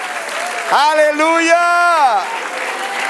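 A church congregation claps during a Spanish-language sermon, the steady applause running under a loud sung or shouted exclamation from a single voice.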